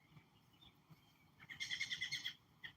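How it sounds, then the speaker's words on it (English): Birds call in a backyard, a faint chirp or two followed by a close, bright burst of rapid repeated notes and one last short call, heard over quiet outdoor background. "Listen to the birds."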